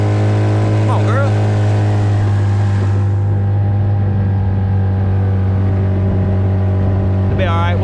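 An outboard motor on a Carolina Skiff holds full throttle on the Perdido River, a loud, steady close-up drone throughout, with brief faint voices or sounds at moments over the engine.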